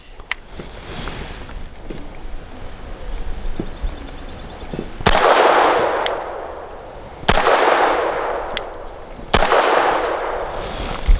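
Grand Power K22 X Trim .22 pistol firing CCI Mini Mag 40-grain rounds: sharp cracks against a noisy outdoor background, three louder shots with long echoing tails toward the end.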